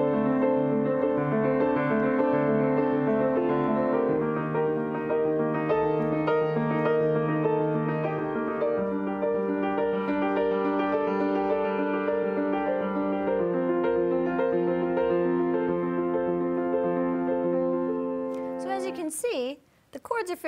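Piano playing continuous rolling arpeggios, broken chords on every beat that move through a progression including the five chord, F, steady and close for about nineteen seconds before a brief noise at the end.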